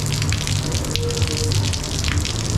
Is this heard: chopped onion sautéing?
no